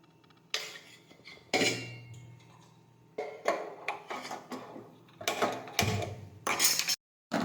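A spoon scrapes and clinks against a pan while gram flour roasts in oil over low heat. The stirring comes in irregular bursts of metallic scraping and tapping against quiet kitchen background, with no speech.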